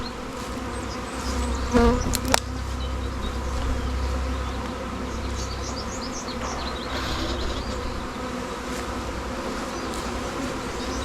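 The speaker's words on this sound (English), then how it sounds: "So lots of bees. Lots and lots." A honeybee colony buzzes at the hive, a dense, continuous drone of many bees close by, with individual bees whining past now and then and a couple of brief knocks.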